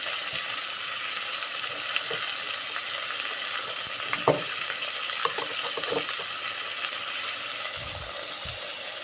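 Green chillies sizzle and fry steadily in hot oil in a home kitchen, a continuous crackling hiss with occasional stirring clatters and small pops.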